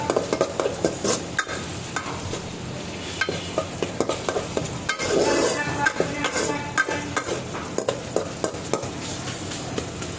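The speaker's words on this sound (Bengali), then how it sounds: "পেঁয়াজটাকে আমি ভালো মতো লাল করে দেব পোলাওয়ের উপরে পেঁয়াজ দেওয়ার জন্য" Onions frying in a pan until browned for white pulao, a dense continuous sizzle punctuated by frequent sharp clinks and scrapes of a metal spoon stirring, close and steady throughout.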